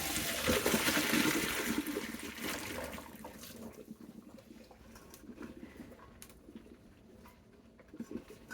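Cold tap water runs over cooked vegetables in a kitchen, starting as a loud rushing spray that gradually softens into a quieter patter with scattered splashes.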